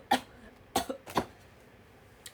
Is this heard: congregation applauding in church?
no